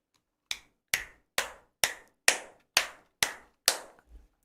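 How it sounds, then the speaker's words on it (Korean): Eight sharp hand claps at an even, brisk pace, close and clear, each ringing briefly, followed by a faint softer tap at the end, during a seniors' laughter-therapy session. "제가 바로 앞에 가서 박수를 쳐드립니다"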